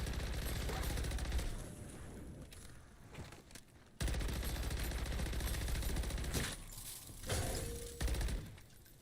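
Rapid bursts from a BP-50 rifle in MW3 Zombies, loud sustained automatic fire broken by short pauses, with softer mechanical clicks in between.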